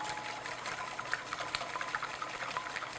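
Two large eggs are beaten in a bowl with a hand whisk, a fast, steady clicking and sloshing at close range that keeps going without pause and without any talking.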